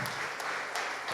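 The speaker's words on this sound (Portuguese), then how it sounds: "Vamos aplaudir ao nome do Senhor?" Faint, distant applause from a church congregation during a service, a soft wash of clapping with a few sharper hand claps standing out.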